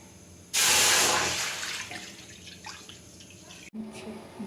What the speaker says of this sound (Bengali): এই বাটিরই আমি 2 বাটির থেকে একটু বেশি জল দিচ্ছি।